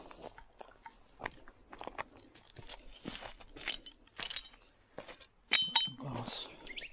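Glass bottles clink and clatter as they are handled on a country creek walk during a vintage bottle hunt, with scattered knocks and sharper chinks that grow louder toward the end.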